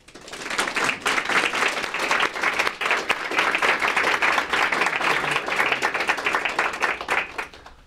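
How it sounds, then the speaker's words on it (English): Audience at a health care leadership lecture applauding to welcome a former CMS administrator, steady sustained clapping from a roomful of people that fades at the end. "please join me in welcoming Dr. Donald Berwick"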